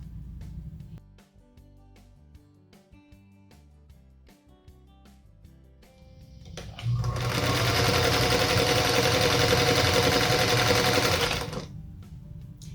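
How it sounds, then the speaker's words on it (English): A sewing machine stitches pieces of a Union Star quilt block. After quiet handling noises, it runs in one loud, continuous burst of several seconds and then stops. "let's cut those apart and then stitch along the opposite side of that marked line"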